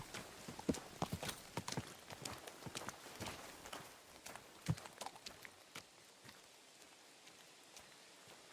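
Horse hooves clip-clop in the video game Kingdom Come: Deliverance 2, with a close, uneven run of sharp strikes that thins out toward the end, with no talk over it.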